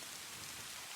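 Heavy cartoon rain pours down steadily, a dense, even hiss of falling water with faint low rumbles, continuous and close throughout with no voices.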